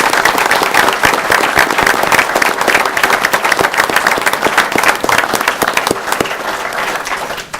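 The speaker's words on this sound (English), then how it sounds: "Please give them a round of applause." Council meeting audience giving a loud, sustained round of applause, dense clapping continuing evenly throughout.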